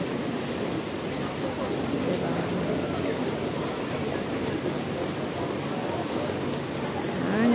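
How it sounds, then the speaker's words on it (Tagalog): Rain falls steadily in a dense, even hiss that holds at the same level throughout, with a faint low rumble beneath it. "Kaso nga lang umuulan."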